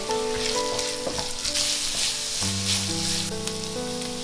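Corn, dried bamboo shoots and carrot being stir-fried in a pan for a Hakka taro snack make a steady, close sizzle and crackle, with background music playing throughout.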